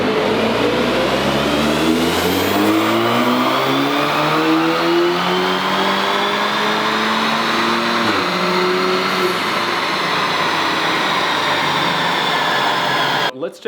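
An Audi S3 tuned to Stage 2+ revs hard on a dyno, its engine note climbing steadily through the gears in a loud, close, sustained pull before a sharp stop at the end.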